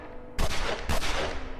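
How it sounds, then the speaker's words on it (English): Many guns fire together in the game Evil Genius, two sharp, loud volleys about half a second apart, each trailing off into a ringing rattle. "So many bullets going out, I think we'll be okay."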